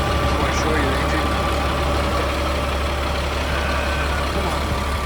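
A 2000 Freightliner FL70 truck engine idles steadily up close, a continuous low rumble with no breaks.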